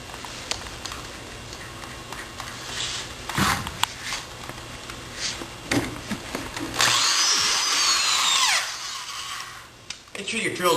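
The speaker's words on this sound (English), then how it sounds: "Make sure your drill's going forward." A power drill drives screws through plywood into a 2x4 while building formwork, with short whirring bursts followed by a longer high-pitched screwing run, and a voice talks between them.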